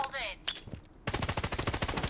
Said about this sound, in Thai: เฮ้ยเสียงปืน